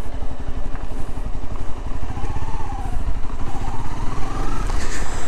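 A 2013 Honda CBR 250R motorcycle being ridden, its engine running steadily and close with a rough, pulsing drone and some rattling.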